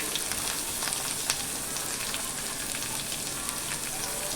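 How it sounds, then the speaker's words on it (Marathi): Onion frying in hot oil with garlic cloves and green chili, a close, steady dense sizzle with small crackles and pops throughout, no talking. "मिरची घातलेली आहे, कांदा घालून घेऊया"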